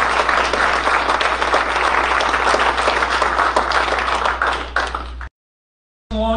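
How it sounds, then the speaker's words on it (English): Loud, sustained applause from the audience at a military promotion ceremony for a brigadier general, continuous and close for about five seconds before an abrupt silence, then a faint voice resumes. "Now, big round of applause."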